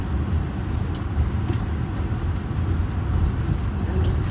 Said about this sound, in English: I'm just pulling into the parking lot.